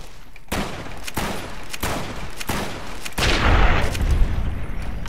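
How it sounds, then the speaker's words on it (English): Gunfire crackles in Fallout: New Vegas, with a series of sharp shots at irregular intervals followed by a heavier, denser volley near the end, moderately distant. "What the hell are you shooting,"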